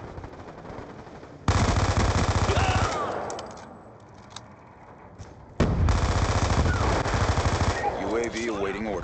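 An MP7 submachine gun fires in Black Ops 2 multiplayer, with two long, loud bursts of rapid automatic fire separated by a quieter gap, and faint game sounds between them.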